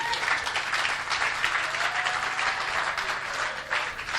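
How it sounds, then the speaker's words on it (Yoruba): A church congregation applauds for Jesus, dense sustained clapping from many hands filling the room, loud and continuous with faint voices beneath. "bá mi pàtẹ́wọ́ fún Jésù"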